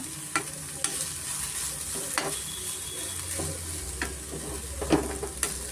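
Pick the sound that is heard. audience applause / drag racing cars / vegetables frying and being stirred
vegetables frying and being stirred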